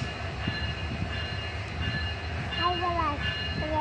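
A train rumbles steadily past at close range, a heavy low roar with rattling wagons and a brief high squeal or horn-like tone near the end; faint voices may sit beneath it.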